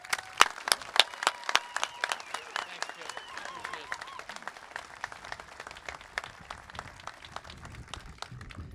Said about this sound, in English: A nice, healthy round of applause and a vigorous welcome for General Morris.